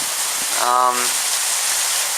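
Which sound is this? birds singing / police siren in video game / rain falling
rain falling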